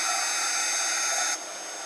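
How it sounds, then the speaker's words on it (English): A heat tool blasts steady hot air to melt clear gloss embossing powder, a close, loud whooshing hum that abruptly drops lower near the end as it switches off or moves away. "And then I'll take my heat tool and just heat this up."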